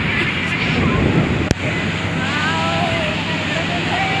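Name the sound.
sea waves at Ganpatipule beach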